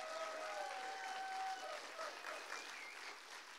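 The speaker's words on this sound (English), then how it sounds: "why don't we give the Lord a big old clap?" A church congregation claps and applauds steadily for the whole stretch, a continuous, even roar of many hands heard at a moderate distance and fairly soft level.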